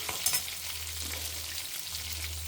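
Sliced onions with salt hiss and crackle in a hot pan, frying steadily up close as they soften, with a few brief stirring scrapes and no voices.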